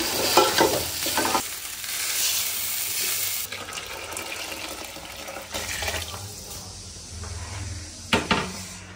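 Rice frying in a pot with cinnamon, cardamom, cloves, black pepper, ginger paste and salt, stirred steadily with soft sizzling and scraping, plus a few louder clatters near the start and end.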